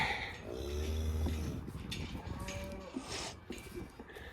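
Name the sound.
cow mooing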